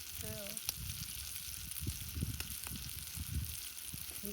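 Jitada fish frying in oil in a pan outdoors, giving a steady dense sizzle with scattered crackles and pops and a brief voice near the start.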